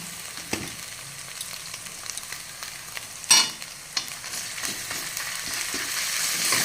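Chopped onion and ginger paste fry in oil with bay leaf and dried red chilli, a soft, steady sizzle close by with a sharp clatter near the middle and light stirring taps, growing slightly louder toward the end.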